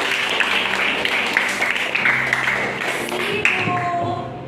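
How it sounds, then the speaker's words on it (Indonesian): Students in a classroom clap for everyone in a short burst of group applause, the claps mixed with some background tones and tapering off at the end. "Tepuk tangan untuk semua."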